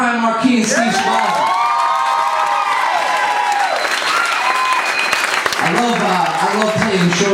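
Concert audience at a live acoustic show claps and cheers steadily for two musicians, a dense close crowd sound with whoops, while voices and what may be guitar strumming sit underneath throughout.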